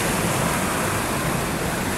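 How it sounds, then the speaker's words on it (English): A waterfall at Disneyland's Adventureland Treehouse rushes as a steady, dense broadband wash of falling water, continuous and fairly close, with no break across the short stretch. "You also get a look at, closer look at the waterfall."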